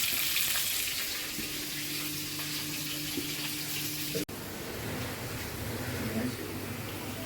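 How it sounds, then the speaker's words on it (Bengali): Fish frying in oil gives a soft, steady sizzle with faint kitchen clatter and a brief bump partway through, quiet and continuous. "মাছ ভাজিটা হয়ে গেলে নামিয়ে এই তেলে করলাটা ভাজা করবো"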